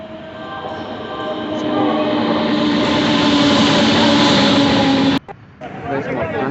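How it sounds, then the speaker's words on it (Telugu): A passenger train pulls into a busy station, its loud, steady rumble and rail noise building and holding before cutting off abruptly near the end, followed by quieter platform bustle. "ట్రైన్ అయితే వచ్చేసింది గైస్"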